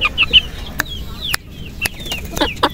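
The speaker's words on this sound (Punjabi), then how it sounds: "ਦੇਖੋ ਦੋਸਤੋ ਕਿਵੇਂ ਫੁੱਲੇ ਰੰਗ ਦੀ ਕੁੱਕੜ ਹੈ ਤਾਂ ਕੁੱਕੜ ਬਿਲਕੁਲ ਬਿਹਤਰੀਨ ਹੈ" Nearby, a rooster clucks in short repeated bursts from a mini zoo or backyard flock, with sharp calls scattered over a few seconds of faint ambient noise.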